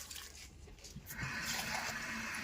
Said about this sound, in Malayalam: കുറച്ച് വെള്ളം ഞാൻ ഒഴിച്ചു കൊടുക്കുവാണ്.